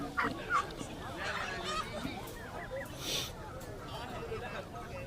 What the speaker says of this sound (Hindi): बहुत सी मुर्गियाँ, मुर्गे, कबूतर, बतख, बटेरे